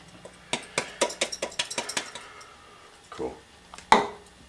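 Vegan cupcake icing is stirred with a utensil, giving a quick run of close, bright clinks and scrapes against the bowl, then a pause, a softer scrape and one last sharp knock; a brief voice speaks once.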